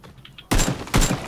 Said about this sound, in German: Ich hab geschossen kurz.